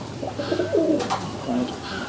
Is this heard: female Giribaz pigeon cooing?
yes